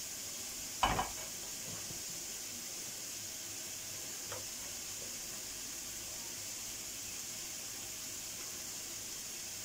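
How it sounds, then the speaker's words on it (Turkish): Minced meat and onions fry in a pan with a steady, even sizzle and hiss. A brief clatter of a utensil against the pan comes early, then the frying continues alone. "Şimdi soğanımızla kıymamız güzelce kavrulsun."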